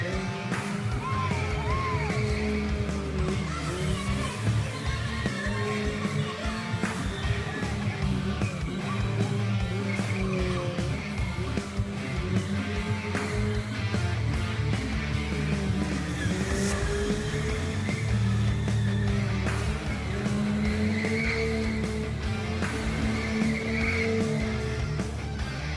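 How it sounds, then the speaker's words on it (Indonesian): A car drifting at an outdoor show at Museum Angkut produces a roaring engine that rises and falls over a continuous screech of skidding tires, with crowd yells now and then across the whole stretch. "Benar-benar membutuhkan skill yang mumpuni melihat kepiawaian sang pembalap ngedrift."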